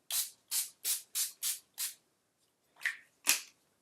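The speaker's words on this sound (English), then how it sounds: "This is the NYX Dewy Skin Mist, NYX Dewy Finish Long Lasting Setting Spray." A NYX Dewy Finish setting spray bottle is pumped six times in a quick, even rhythm, then after a pause twice more, each a short close hissing mist.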